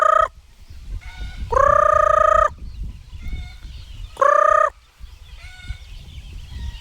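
Loud chicken calls, bursts of fowl vocalizations twice with quieter clucking and scratching between, close by, as the chickens are called in.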